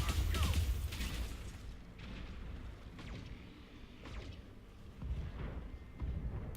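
Mech weapons firing in the BattleTech video game, several deep booming blasts and bursts spaced a second or so apart, loud, then fading rumbles between shots.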